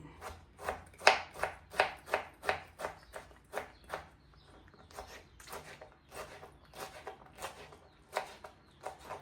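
A knife chops tomato on a cutting board while curry is prepared, sharp knocks falling in quick regular bursts with short pauses between, close and clear, with no talk.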